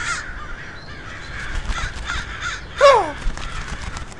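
A crow caws once, loud and close, in an animated short, a harsh cry that rises over quieter ambient background sound.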